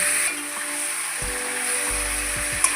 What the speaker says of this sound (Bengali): এখন ম্যারিনেট করা চিকেনটা দিয়ে দিলাম